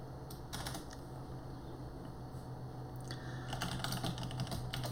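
Computer keyboard typing as code is written for a React, D3 and TypeScript project, a steady run of quiet close keystrokes throughout that grows busier and slightly louder toward the end, with no talking.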